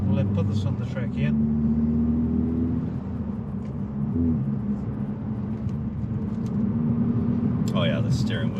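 A 2023 Honda Civic Type R FL5 on the road, its engine and tyre rumble a steady, loud drone throughout, with people talking over it inside the cabin.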